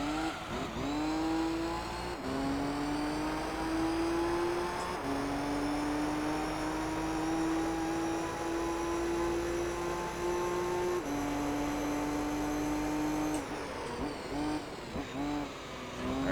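Race cars in Gran Turismo 3 roar continuously at high revs, with the engine pitch holding steady, shifting and sweeping through gear changes, and tires squealing faintly underneath.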